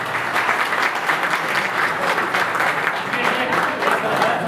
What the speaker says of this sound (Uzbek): Davomiy qarsak chap turinglar,